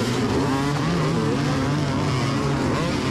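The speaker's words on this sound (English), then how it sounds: "We're racing dirt bikes on Washougal" Two-stroke 125 and 250 dirt bikes race at Washougal MX Park, engines buzzing and wailing continuously at close range, loud and dense with overlapping revs and no talking.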